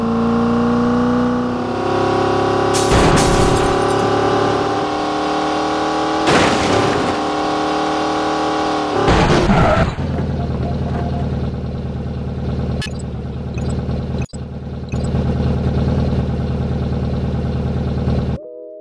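Car engine in a mobile driving simulation game, a steady droning hum with shifting revs and a few sharp transient bursts, continuous and fairly loud with no talking.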